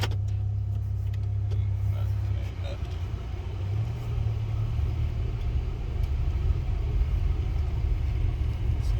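A Buick engine idles with a low, steady exhaust rumble close by, a faint rattle on top and speech underneath.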